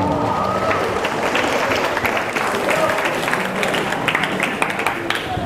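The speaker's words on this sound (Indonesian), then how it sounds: "Tepuk tangan dulu buat kita semuanya." High school students at an Isra Mi'raj school event clap and murmur together, a dense crowd applause running steadily for a few seconds.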